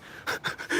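A shy dog pants in short, quick breaths, about three or four rhythmic huffs heard close up with no talking over them.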